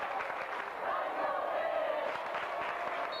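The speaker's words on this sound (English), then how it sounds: "Got the crowd cheering" Crowd cheering and yelling at a state wrestling championship match, a steady loud roar of many voices filling the arena throughout.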